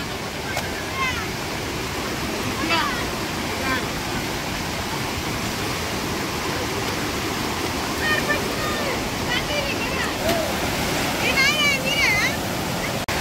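A monsoon-flooded river in Konkan rushing past, a loud, steady broadband roar of water throughout, with occasional voices calling faintly over it.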